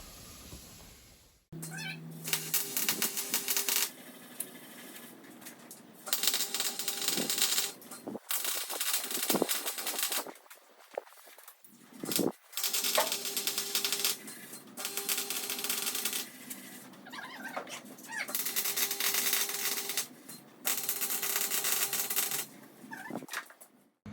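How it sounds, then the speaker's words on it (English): A steel mounting plate is tack welded onto an FG Falcon differential, several loud crackling, sizzling MIG bursts of a few seconds each, separated by short pauses. "I'm going to tack weld all these and then pull it out again so we can fully weld them"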